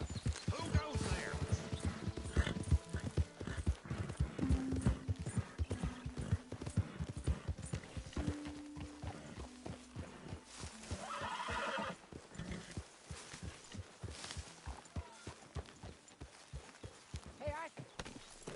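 In Red Dead Redemption 2, a horse's hooves clip-clop in a steady walking rhythm and the horse gives a few whinnies, with people talking over it.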